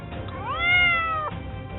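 A tabby cat lets out one clear, drawn-out meow that rises and then falls. It sounds close, with no other sounds around it.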